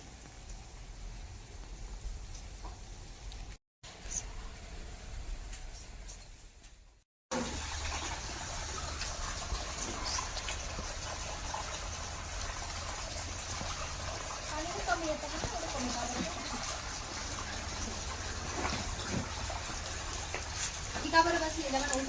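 Water runs steadily into a cattle trough inside a cowshed, a continuous close rushing and splashing that breaks off briefly near the start. A person talks over it.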